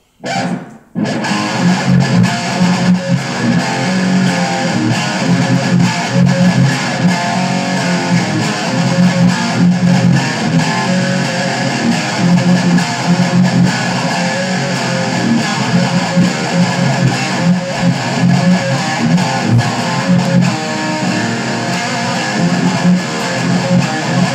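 Heavy distorted electric guitar chugs and riffs loudly and continuously in a dense, saturated metal style.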